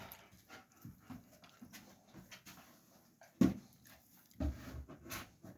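Several dogs indoors pant softly with occasional whimpers and a couple of louder sudden bumps or yelps, all fairly faint and close by, without talk.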